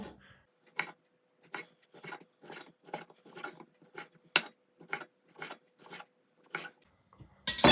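A knife slices ham into very thin pieces on a board: about a dozen short, crisp, evenly spaced cutting strokes, close and quiet against near silence.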